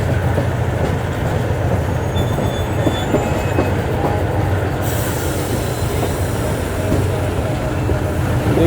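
Karachi Express passenger train running on rails, a steady loud rumble of wheels and carriages throughout with faint high wheel squeal, heard from inside the moving train.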